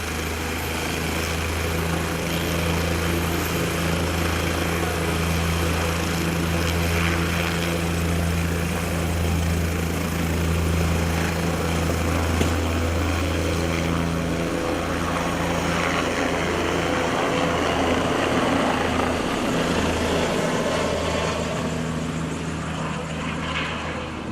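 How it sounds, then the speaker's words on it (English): A helicopter at a mock DUI accident scene at Baker High School runs its engine up, a steady, loud mechanical drone with a throbbing low hum that persists for over twenty seconds without talk. "I hear the engine of the helicopter beginning to rev"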